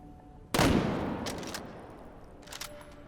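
A single loud sniper rifle shot in the VR shooter H3, a sharp blast with a long decaying tail, followed by faint mechanical clicks, no talking.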